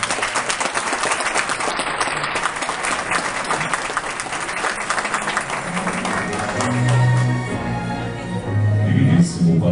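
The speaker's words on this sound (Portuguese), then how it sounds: "Uma salva de palmas" Sustained audience applause at a computer science graduation ceremony, steady dense clapping from a crowd that carries on throughout, with a voice speaking over it toward the end.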